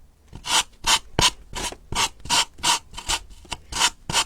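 Sandpaper rasps along the paper edges of a decorated box covered in tissue-paper decoupage, in about a dozen short, rhythmic back-and-forth strokes, close and steady with no talking.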